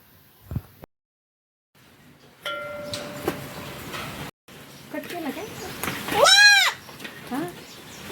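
A goat bleats loudly and nearby in a wavering cry, among brief clatter and other farmyard noises.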